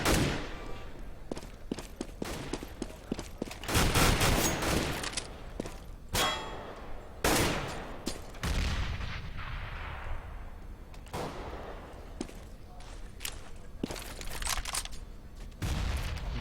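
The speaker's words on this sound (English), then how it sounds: "taking out Ragnar there with the AK-47" Repeated bursts of AK-47 gunfire in CS:GO during a LAN tournament match, sharp volleys scattered across the clip with clanging impacts and a quieter stretch in the middle.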